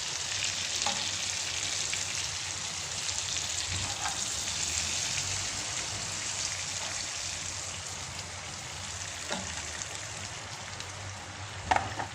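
Shrimp sear in a hot pan with a steady, dense sizzle and frying crackle, and occasional sharper pops and clicks, close up with no talking.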